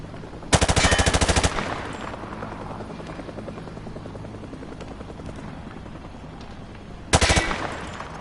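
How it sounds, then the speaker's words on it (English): A machine gun fired from the hip in a video game lets off a loud burst of about a second, falls quiet over a low background hum, then fires a shorter second burst near the end. "He sprayed bullets all over the damn place."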